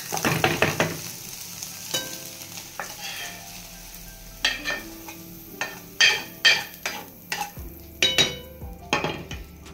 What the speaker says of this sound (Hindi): अंडा को तड़का दे देवा